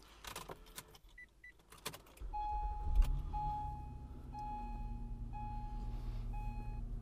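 A 2007-09 Acura MDX engine fitted with a J-pipe exhaust mod cranks and catches, then settles into a steady low idle, with a repeating electronic beep chiming over the rumble.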